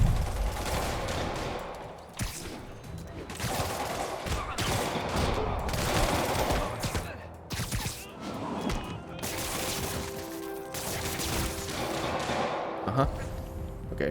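Gunfire from gunmen in the video game Marvel's Spider-Man, scattered bursts and volleys of shots with thuds and impacts from combat, spread across the scene with a voice talking at times.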